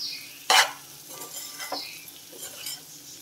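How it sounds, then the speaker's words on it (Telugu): Shark fish mince frying dry in a pan for a sora puttu curry is stirred with a spatula, a single loud scrape followed by softer intermittent scraping over a faint sizzle. "బాగా ఫ్రై చేసుకోవాలి. ఎక్కువ మిక్స్ చేసేద్దండి."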